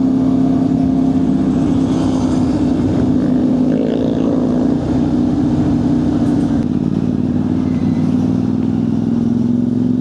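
Steady road-traffic rumble from a CFMoto 450MT motorcycle commute, a continuous loud engine and vehicle drone lasting throughout with no talk.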